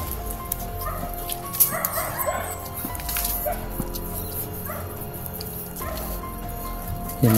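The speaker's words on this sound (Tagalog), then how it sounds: "Baka may aso dyan." Dog barks on a street, a few short yips and woofs scattered over steady outdoor background noise and dripping water, with no one talking.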